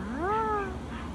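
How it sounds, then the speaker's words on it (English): A pet cat gives a single clear meow indoors, rising then falling in pitch, close and moderately loud, alone without talk. "See, kitty cat's coming."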